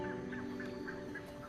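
Waterbirds in the Pantanal wetlands give a string of repeated honking calls, several spaced cries over about a second and a half, set against a steady, humming wetland background.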